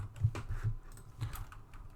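Quick, light keystrokes on a computer keyboard while entering a search in the Vim editor, a short burst of soft close-up taps at a fairly even pace.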